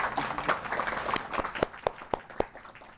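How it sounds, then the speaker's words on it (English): A small audience claps for a few seconds, a light scattered applause that thins into a handful of separate claps at the end. "Give him a round of applause"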